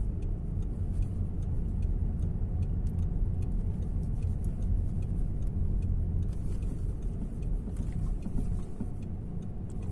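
A car turns through a U-turn during a driving lesson, its steady engine and road rumble close and continuous, with faint ticking like an indicator running throughout.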